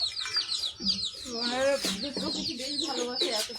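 Chickens cluck in a small, tidy village yard shared with ducks and goats, with a mix of clucks and chirps running throughout while a person talks nearby.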